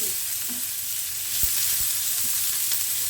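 Cumin seeds and a pinch of asafoetida fry in hot oil in a pan, a soft, continuous hiss of sizzling with a couple of faint utensil taps.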